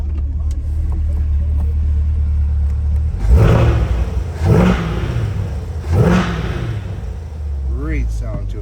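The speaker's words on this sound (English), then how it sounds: "Love the exhaust on these new Corvettes. Phenomenal sound." A 2020 Corvette C8 convertible 2LT idles with a deep exhaust rumble, then three sharp revs swell and fall back at a steady pace, heard up close outside the car.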